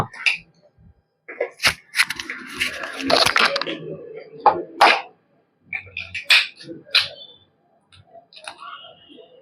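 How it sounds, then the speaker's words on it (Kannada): An egg is cracked into a chicken kebab marinade spiced with chili powder and salt, heard as a few sharp, close taps and cracks among handling noises, with a person talking in between. "ಒಂದು ಮೊಟ್ಟೆ ಒಡೆದು ಹಾಕೊಳ್ಳೋಣ"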